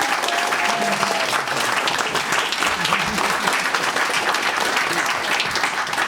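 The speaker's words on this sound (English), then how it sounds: "Can we have a round of applause for our Red Dwarf fans?" Dense, steady audience applause from Red Dwarf fans at a comic con panel in Chester, continuous crowd clapping with faint voices mixed in.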